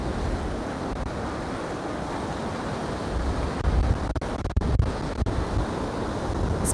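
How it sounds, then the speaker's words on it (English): Messy sea waves break along the shore at Can Pastilla, Majorca, with surfers out. A continuous wash of surf blends with steady wind noise on the microphone, and a few heavier rumbling surges come through near the end. "The waves are a little bit on the messy side."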